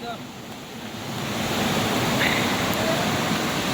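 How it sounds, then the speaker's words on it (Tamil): Ariharanathi Falls near Tenkasi pours as a hidden waterfall, a broad, steady rushing roar of falling water that grows slightly louder and stays continuous throughout. "ஃபால்ஸு சும்மா அருமையாக வருது."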